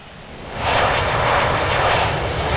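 Coast Guard aircraft in the Infinite Flight simulator taxiing to parking at Townsville, its engine drone rising after half a second to a steady, fairly loud broadband roar that holds to the end.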